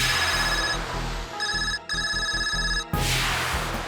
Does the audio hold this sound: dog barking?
no